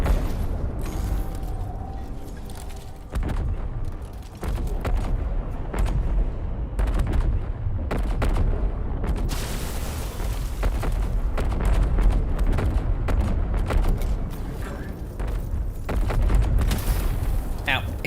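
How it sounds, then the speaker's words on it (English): Dense video game gunfire, repeated booming shots and bursts near and loud across the whole stretch, with battle noise filling the gaps. "Hey, why are you shooting him?"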